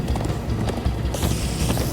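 Horses gallop in Minecraft Story Mode, a rapid, steady clatter of hooves in a busy, loud game mix lasting about two seconds.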